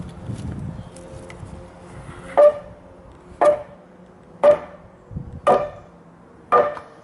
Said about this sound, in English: I'm going to bash it from this end of the hammer.